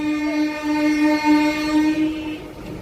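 A MEMU train pulling into Vizianagaram Junction sounds its horn in one loud, sustained blast of about two seconds, which fades into the rumble of the moving train.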